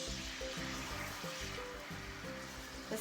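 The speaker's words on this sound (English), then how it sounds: "So I'm gonna add my curry paste into the pan." Curry paste sizzles in the same pan where the shrimp were cooked, making a steady, even hiss that runs throughout over a low, droning background tone.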